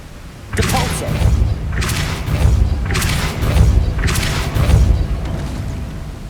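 Depulso, a force-push spell in Hogwarts Legacy, is cast four times in quick succession, each cast a loud, close whooshing boom with a heavy low thump, spaced roughly a second apart.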